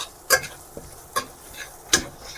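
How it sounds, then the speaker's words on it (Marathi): Red chili powder and garam masala are sautéed with onion and tomato in a pan: three sharp, close spatula scrapes land about a second apart over a low, steady sizzle. "मसाले चांगले परतून घेऊ."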